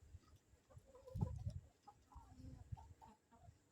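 A chicken clucking softly nearby, a few low, irregular clucks and murmurs against a quiet outdoor background.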